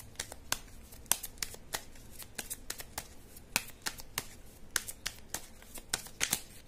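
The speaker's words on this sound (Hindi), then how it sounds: "एक्शन के लिए मैं कार्ड्स निकालूंगी अभी।" Tarot cards being shuffled by hand, a steady series of crisp riffling snaps and flicks repeating roughly every third of a second, close and quiet with no talking.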